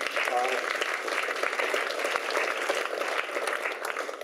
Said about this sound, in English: So I think we should give a round of applause to Anand.